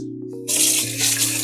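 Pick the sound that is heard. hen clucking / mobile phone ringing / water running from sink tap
water running from sink tap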